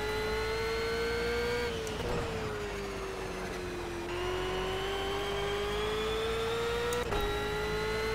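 A Ford Falcon FG race car in Project CARS at Monza, its engine holding a loud steady drone that dips in pitch as it brakes, then climbs again with brief gear-change breaks.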